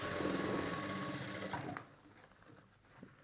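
Sewing machine stitching a sleeve onto a garment, running steadily and fairly loud for about a second and a half, then stopping and leaving quiet room tone with a few soft handling clicks.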